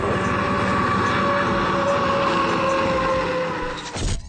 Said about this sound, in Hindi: fire force 3 jet car Martin हिल के द्वारा डेवलप की गई ये तीसरी जेट कार है